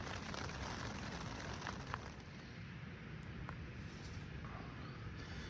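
Rain falls steadily on a tent at a high mountain campsite around 11,500 feet, a constant soft patter and hiss with a few individual drops standing out, no voices.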